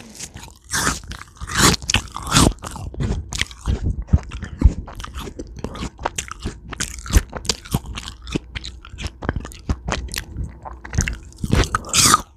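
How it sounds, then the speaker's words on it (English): Close, loud crunching bites and wet chewing of an apple slice, a dense run of crisp snaps and squishy mouth sounds lasting several seconds, with no talking. "I'm going to eat this apple slice"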